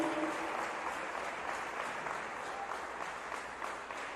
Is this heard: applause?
yes